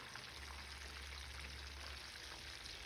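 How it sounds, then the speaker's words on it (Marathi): Chillies stuffed with dried shrimp frying in oil in a pan over a medium flame, a soft, steady crackle and sizzle, faint and even throughout. "आपल्याला मीडियम फ्लेमवर मिरच्या दोन्ही साईडनं छान अशा तळून घ्यायच्या आहेत क्रिस्पी होईपर्यंत तळून घ्यायच्या आहेत"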